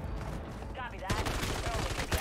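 Gunfire in MW3 Zombies, a short quiet stretch broken by a sudden burst of rapid shots with a voice speaking briefly over it.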